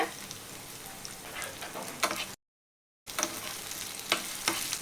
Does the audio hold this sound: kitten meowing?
no